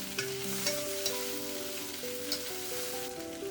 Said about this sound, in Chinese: 翻炒至蔬菜变软。